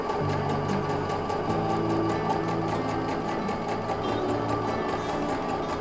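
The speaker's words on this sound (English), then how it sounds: "A walking foot is incredibly helpful to creating a beautiful stitch on velvet." A sewing machine fitted with a walking foot stitches velvet with a 3.5 millimeter stitch and a 70/11 needle, giving a steady rapid mechanical whir and tapping that runs continuously, close and moderately loud.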